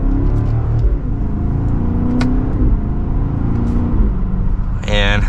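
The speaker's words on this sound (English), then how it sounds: "Let's do one last acceleration." 2024 BMW X5 M60i engine building revs under steady acceleration, a loud continuous rumble and rising drone heard from inside the cabin, with a brief whir and some background voice.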